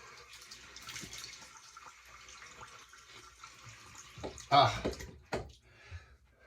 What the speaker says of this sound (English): Now we're going to go with the cold water rinse.